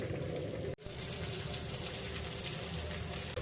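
Pieces of ravas (salmon) fish frying in a pan, giving a steady close sizzle and crackle of hot oil with one brief break as the pieces are moved.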